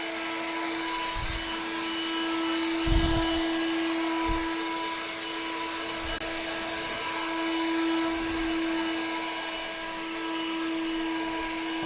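A cordless EGO 56-volt leaf blower rated at 765 CFM runs continuously at high power, a steady loud whine with a few low thumps and gusts along the way, with no one speaking.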